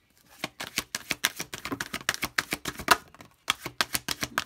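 Tarot cards drawn and laid out for a reading make a rapid run of crisp, close card snaps and flicks, alone and with only a brief pause.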